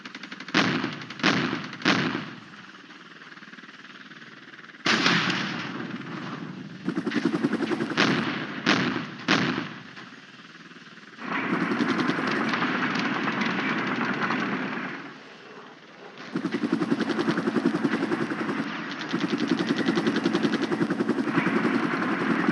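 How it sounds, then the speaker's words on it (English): Attack helicopters in the Flashpoint Campaigns war game dive on a Soviet-held town, loosing heavy cannon bursts and rocket fire; sharp repeated shots open the stretch, then long, loud, dense barrages of rapid fire alternate with brief lulls of rotor drone. "Counterattack helicopters commenced their attack runs, diving into the town and firing a massive cannon and rocket fire into the Soviet forces in the town."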